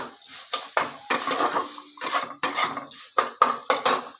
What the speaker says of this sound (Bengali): এবার আমি ভালো করে এটাকে নেড়ে নেব ভাজা ভাজা করে নেবো